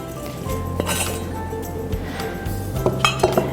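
Dressing of lime juice and fresh cilantro and parsley whisked in a bowl, with light clinking and tapping of the whisk against the dish, brief and close, ending in a few quicker taps.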